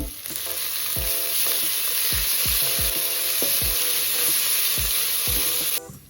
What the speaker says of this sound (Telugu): ఇప్పుడు అల్లం వెల్లుల్లి పేస్ట్ 1 స్పూన్ వేసేసుకోవాలి. వేగనివ్వాలి.